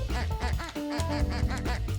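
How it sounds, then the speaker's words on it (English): Several cartoonish duck quacks from Ducky's Delivery Service, a video game, sound in quick succession over a steady bed of game music, loud and close. "Oh, I can quack by pressing Y."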